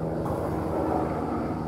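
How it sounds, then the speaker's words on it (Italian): A low, steady rumble of an airplane passing overhead, droning evenly throughout without voices. "Matti, e passa l'aereo"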